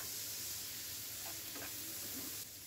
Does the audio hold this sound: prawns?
yes